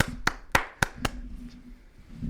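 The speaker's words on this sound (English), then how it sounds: "So, clap it up." A single pair of hands gives four sharp, evenly spaced claps close by, then stops, leaving a faint hum.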